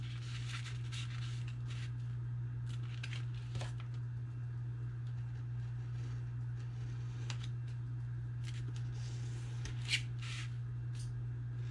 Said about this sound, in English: on my tabs here on the 2 inch side and just cut out so that I can have tabs on the bottom of my box